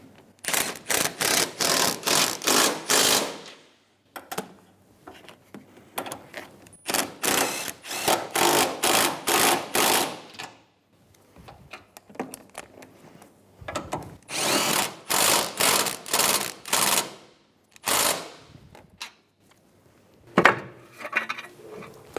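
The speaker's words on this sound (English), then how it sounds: "Using a 15mm socket, snug down the new nuts" A ratchet with a 15mm socket snugging new strut nuts on a 2010-2015 Lexus RX350, loud rapid clicking in repeated bursts of a few seconds separated by short pauses, close up with no talking.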